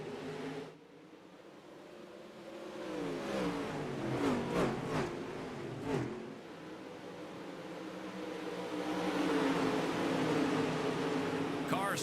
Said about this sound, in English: Cars thunder down the backstretch